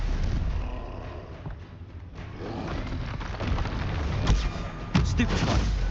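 Repeated Stupefy spell blasts in Hogwarts Legacy during combat, dense booming bursts layered over a constant loud game mix with music and effects, a sharper hit standing out near the end.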